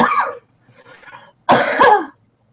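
A person coughing and choking, a sharp cough burst, then a faint rough throat sound, then a louder drawn-out harsh cough, close and alone.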